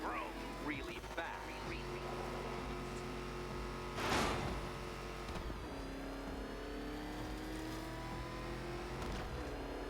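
Batmobile engine from the video game Batman Arkham Knight revving and droning steadily, with a louder surge midway, under game music and talk.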